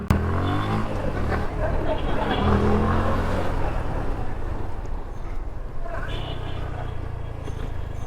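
A second-hand motorcycle in fresh condition revs up loudly at close range, then settles into a steady running drone; people talk over the engine.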